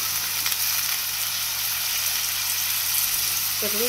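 Potatoes and onions fry together in a pan, a steady close hiss and sizzle throughout, with a brief faint voice at the very end.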